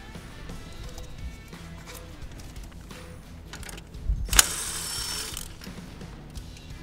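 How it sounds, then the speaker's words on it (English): Ratchet turning a 10 mm socket to remove the battery cable on a Honda Civic, a run of soft close clicks followed by a brief louder clatter, with no talking. "Remove the battery cable using a 10 millimeter socket."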